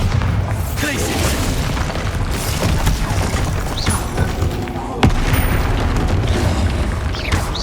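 Spell explosions from the Bombarda curse fill a Hogwarts Legacy video game battle, with dense booming blasts and crashes heard alongside shouted voices and other combat effects throughout.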